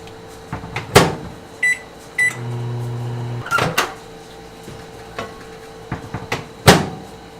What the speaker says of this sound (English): now we're going to put it back in the microwave for another 45 seconds.